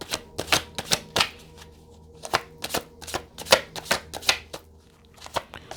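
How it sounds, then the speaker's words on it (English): Rapid riffling bursts of tarot cards being shuffled, close by, repeating in quick clattery runs with brief pauses between. "Why am I shuffling?"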